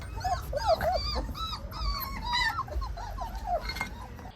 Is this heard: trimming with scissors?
no